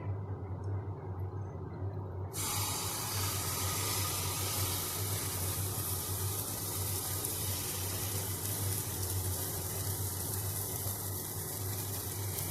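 Butter hits a hot pan with a soft, even sizzle that keeps hissing at a low level. The sound becomes noticeably brighter and fuller a couple of seconds in, then holds steady without a break.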